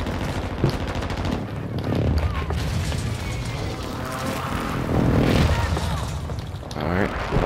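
Call of Duty: Warzone gunfire on Ashika Island in Resurgence quads: sustained volleys of shots with occasional heavier booms, loud and continuous, mixed under voices talking.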